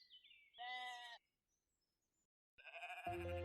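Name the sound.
sheep bleating in a Pokemon video game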